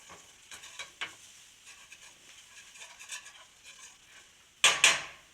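Curry powder toasting in a pan of oil with browned onion and hot pepper, heard as a soft sizzle with light stirring scrapes and utensil clicks, then two louder sharp clatters near the end.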